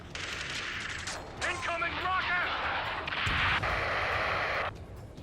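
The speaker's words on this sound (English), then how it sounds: "Incoming rocket!" Rockets and gunfire in a harbor combat scene of the video game Ace Combat 7, with bursts of explosive rumble and rapid fire beneath urgent radio voices talking throughout.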